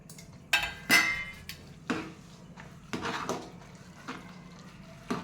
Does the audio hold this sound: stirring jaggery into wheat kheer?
yes